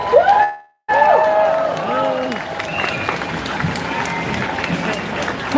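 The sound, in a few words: crowd applause and cheering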